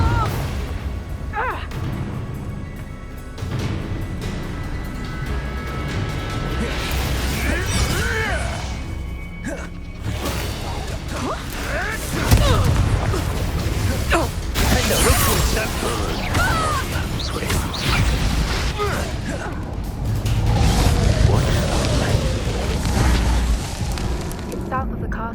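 Fiery blasts from spells in Hogwarts Legacy, with repeated crashing explosions and booms amid ongoing combat noise, dense and loud throughout while a voice calls out over the action.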